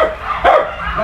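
A litter of golden dachshund puppies lets out one short, close bark or yip outdoors on sand, a quick loud burst with no talking.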